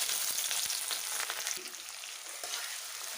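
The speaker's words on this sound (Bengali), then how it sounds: "পেঁয়াজটা লাল করে ভেজে নেবো।" Chopped onions frying in hot oil in a home kitchen, a loud continuous close sizzle with occasional clicks of stirring, no talking.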